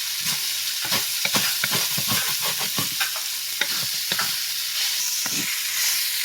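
Ground pork fries and hisses steadily in a pan while a utensil scrapes and stirs it in quick repeated strokes, close up and moderately loud, with no one speaking.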